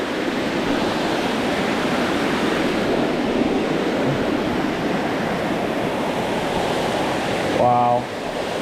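A large waterfall in the Puerto Rico wilds roars as a steady, dense wash of noise, loud and constant throughout, with a brief tonal blip near the end.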